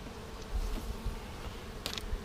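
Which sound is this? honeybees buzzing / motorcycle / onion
honeybees buzzing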